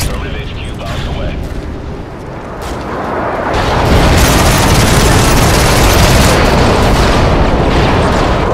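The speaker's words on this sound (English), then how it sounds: "Stealth airstrike waiting." Stealth airstrike bombing in the Modern Warfare 3 video game, a dense roar of rumbling blasts that swells loud after a few seconds and keeps up steadily to the end.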